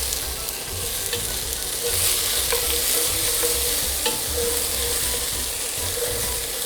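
Onions sizzle steadily in hot fat in a pan, a dense continuous crackle broken by faint scraping and clinks of a spoon stirring, close up and constant.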